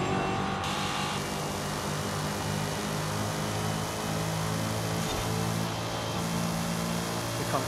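A 2024 Ford Mustang GT driving in Forza Horizon 5, its V8 engine droning steadily at moderate revs with shifting tonal bands and a brief change in pitch near the start.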